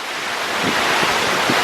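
Strong wind roars through a heavy rainstorm as a dense, steady broadband rush with slight gusting surges, loud and close, with no voices.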